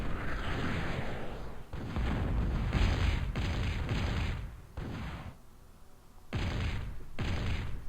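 Video game battle as units attack tanks: dense bursts of rapid gunfire and booming explosions in loud, choppy clusters separated by brief quieter gaps, the clatter cutting in and out abruptly.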